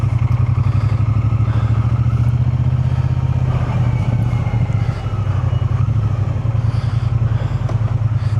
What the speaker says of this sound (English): I'm on my Triumph Bonneville T120 and I'm fortunate.